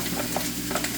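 Green peppers frying in a pan, a steady close sizzle with small crackles throughout a short stretch, no talking.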